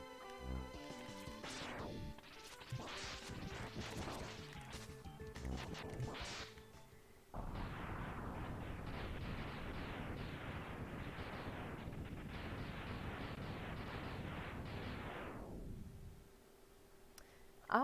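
Homing torpedo explosions in the Mega Man X video game, a long run of rapid, crunchy blasts layered over game sounds, with an earlier cluster of bursts followed by a sustained barrage before it cuts off.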